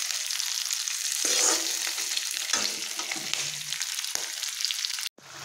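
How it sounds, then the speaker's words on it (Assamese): Panch phoron, dried chili, bay leaf and onion fry in hot oil for a gravy, giving a loud, continuous sizzle with soft stirring scrapes throughout and a brief cut near the end. "মগুখিনি তেল মাৰিবৰ কাৰণে পাঁচফোৰণ শুকান জলকীয়া, তেজপাত আৰু পিঁয়াজ এনেদৰে ভাজি আছোঁ"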